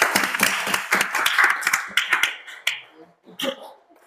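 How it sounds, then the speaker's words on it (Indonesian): Classroom applause for a student group, a burst of many hands clapping close and loud, then thinning into scattered separate claps before stopping. "tepuk tangan untuk kelompok 1"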